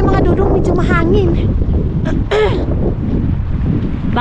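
Steady wind buffets the microphone beneath a bridge near the water, a constant low rumble with a person talking over it.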